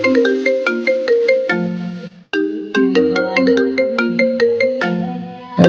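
A mobile phone ringtone plays a bright, plucked melody in repeating phrases, with a short gap midway before the tune resumes.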